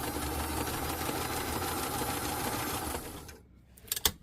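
A sewing machine runs a test stitch on a winter puffer coat, its steady mechanical whir and needle chatter close for about three seconds before stopping, followed by a couple of sharp clicks.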